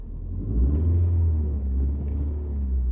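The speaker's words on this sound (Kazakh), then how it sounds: "көлігіміз оталып тұрды, дауысын естіп тұрсыздар" A car engine idles and then rumbles up as the car pulls away in first gear during a driving lesson, a steady, close, low drone that swells slightly, with no talking.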